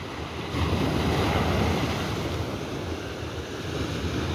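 Ocean surf breaks steadily on a beach, a loud continuous roar of churning water with wind buffeting the microphone, swelling slightly after the first half second and holding strong throughout.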